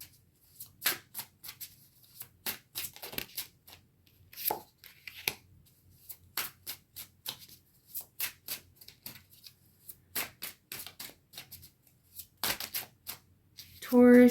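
Tarot cards are shuffled and drawn by hand, giving close, crisp clicks, snaps and papery flutters in irregular bursts with brief pauses, ending in a louder riffle.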